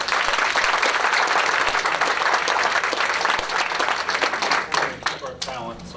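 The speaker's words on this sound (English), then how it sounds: "How about one more round of applause for this?" A crowd at a school celebration claps loudly and continuously, dense applause filling the room before thinning out near the end as a few cheers and voices come through.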